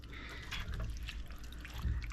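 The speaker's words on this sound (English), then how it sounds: "And just a little bit more water." Water trickles and splashes into a stir-fry pan of chicken teriyaki, a soft pouring sound close by with a few louder low splashes, no talking.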